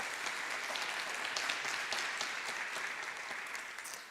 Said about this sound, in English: let's give a round of applause for James Nehan